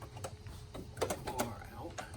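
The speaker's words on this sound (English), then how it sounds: "I'm going to start by removing the 1 terabyte drive and getting the retaining" Clicks, scrapes and small plastic-and-metal knocks as a 1 terabyte hard drive is pulled from its bay in a 2009 Mac Pro, a cluster of sharper clatters midway, quiet and close with faint background noise.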